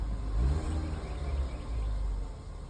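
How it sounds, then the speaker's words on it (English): A Ford Edge engine, just repaired after a loose spark plug and cylinder 3 misfire, revs briefly up and settles into a steady, smooth mid-pitched run close by with no voices. "Let's rev it up a little bit. She definitely sounds better."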